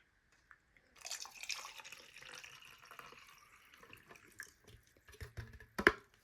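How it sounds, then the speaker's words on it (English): Hot water poured onto oil sand in a small container, heard close as irregular trickling, dripping and splashing that starts after a brief silence, with a sharper splash near the end. "so here we have the water, and we have the oil sand in here. Moment of truth, let's pour it."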